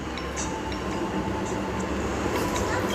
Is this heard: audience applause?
no